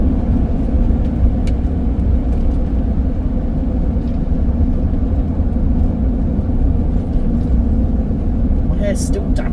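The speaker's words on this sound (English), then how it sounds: "see what it's like driving a camper van" Steady low road rumble of a camper van being driven along a road, engine drone and tyre noise constant throughout, with faint brief higher noises near the end.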